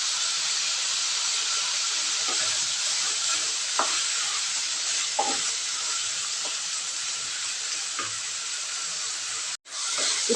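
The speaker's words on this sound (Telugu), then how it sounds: "ఇప్పుడు ఇంకోసారి కలుపుతున్నాము." Cucumber chutney mixture is stirred in a hot pan, a steady loud sizzle and hiss punctuated by scattered scraping knocks of the spoon, with a sharp brief dropout near the end.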